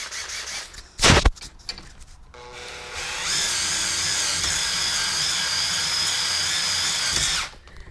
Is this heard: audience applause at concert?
no